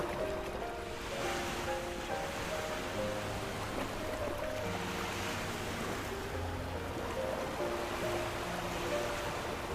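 Ocean waves wash steadily onto a beach in a video game, a continuous surf hiss with faint tonal notes underneath and no gaps throughout.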